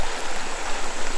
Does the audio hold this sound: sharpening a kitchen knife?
no